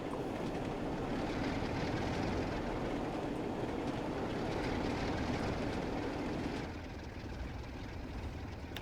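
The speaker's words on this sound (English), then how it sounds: "just the clickety clack, clickety clack" Train wheels in Train Sim World 3 on a London commuter route, a continuous rumbling roll of a moving train with a dense rhythmic clatter underneath, steady and fairly loud, easing slightly toward the end.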